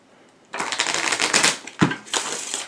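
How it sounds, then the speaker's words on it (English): A deck of tarot cards is shuffled in two brisk riffling bursts, crisp and close, separated by a short pause, with no one talking. "Or you tell them that they can shuffle the deck, which way they know how to do it."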